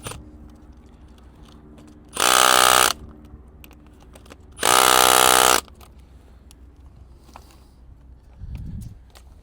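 A ratchet cranks down bolts on an electrical handhole in two loud, even bursts of rapid clicking, each about a second long, separated by quiet, with a soft thud near the end.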